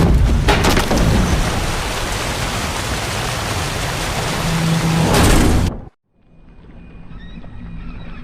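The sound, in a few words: rainstorm with thunder in The Witcher 3 video game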